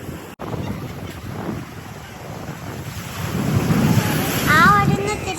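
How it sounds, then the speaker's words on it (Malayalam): Ocean surf at Fort Kochi beach in Kerala rolls in with a low, swelling rumble, heavy wind buffeting the microphone and the wash growing louder toward the end. "ആ വരുന്ന തിരമാലകൾ കണ്ടോ?"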